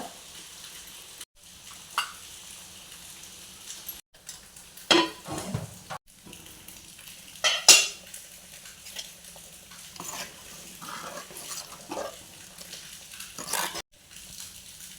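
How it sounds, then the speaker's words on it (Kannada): Soft sizzling of masala frying in oil for a fish curry, with intermittent scraping and stirring sounds from a utensil in a pan. "ಮಸಾಲೆ ಸ್ವಲ್ಪ ಎಣ್ಣೆಯಲ್ಲಿ ಫ್ರೈ ಆಗಲಿ"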